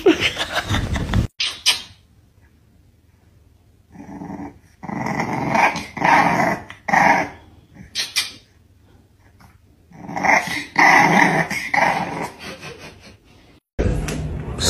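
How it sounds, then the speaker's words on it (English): A pet dog growls in low, rumbling bursts while its claws are being clipped, with a few sharper, higher outbursts in between and short quiet gaps, heard up close and with no voices. "My dog hates claw clips."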